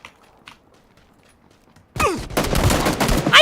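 Shotgun gunfire in a video game: after near silence, a loud sudden blast opens a dense, continuous barrage of overlapping gunshots that stays loud to the end.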